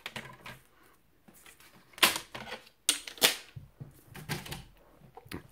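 Card paper topper being trimmed to 10 x 14 cm for a handmade greeting card, with sharp cutting and slicing sounds in short bursts between quieter handling noises, close and fairly soft.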